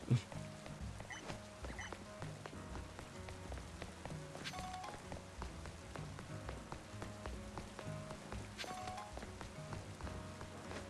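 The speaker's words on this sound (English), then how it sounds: "Oh, because it's raining." Rain falls in the Pokemon Legends Z-A video game, a steady pattering hiss of drops with game music and tones layered over it, continuing throughout.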